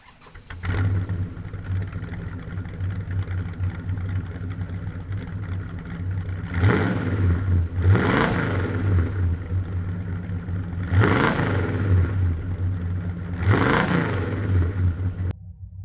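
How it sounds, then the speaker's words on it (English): A 1969 Dodge Super Bee muscle car engine cranks, catches and settles into a steady, rumbling idle nearby, with four sharp throttle blips spaced a few seconds apart. "Let's go ahead and start her up for you so you can hear her run."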